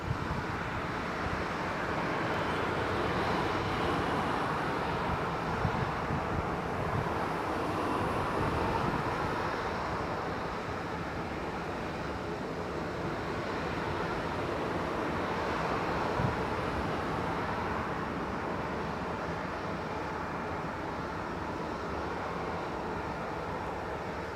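Aer Lingus airliner at Leeds Bradford Airport, a steady broad roar of jet engine noise mixed with wind buffeting on the microphone, continuous and fairly loud throughout with no talking.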